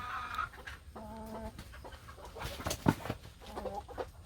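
Silkie chickens peck at a halved pumpkin, giving soft, close clucks and a few short, tonal calls, with light pecking taps against a quiet farmyard background.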